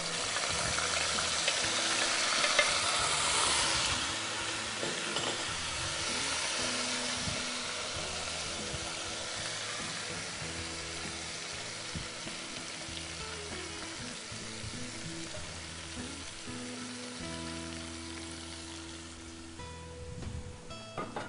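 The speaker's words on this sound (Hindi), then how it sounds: "अब इसी में आप अपनी मैरिनेटेड चिकन, जो आपने 1 घंटे से 20 मिनट जितनी मैरिनेट की है," Marinated chicken sizzles loudly in hot oil with whole spices in a pan, a dense crackling fry that holds steady with occasional stirring scrapes, no talking.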